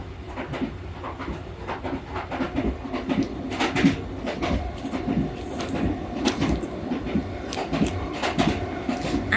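Inside a moving train carriage, a steady rumble of wheels on rails runs under scattered clicks and knocks of the carriage, heard at a fairly quiet level.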